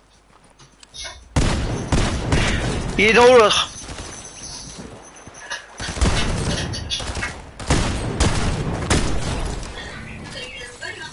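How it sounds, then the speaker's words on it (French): Fortnite gunfire rings out in sharp bursts and scattered volleys, loud and close, mixed with game effects while players talk excitedly over it. "Il va me tirer, il me tire dessus."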